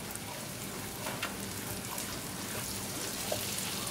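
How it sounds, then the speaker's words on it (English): Cumin seeds frying in melted butter for a shrimp curry, giving a steady, close crackling sizzle with faint scattered pops and no talking. "As the butter started to melt, I'm going to bring cumin seed. And we're going to cook cumin seed for like 20 to 30 seconds."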